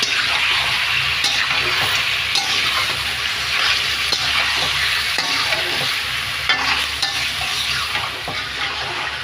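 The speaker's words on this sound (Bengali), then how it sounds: "তেলে মুরগির মাংসটা ভাজা হয়ে গেছে।" Chicken pieces frying in hot oil in a pan for a chicken curry with jackfruit seeds, a loud continuous sizzle and crackle, close up with occasional stirring scrapes and no talk.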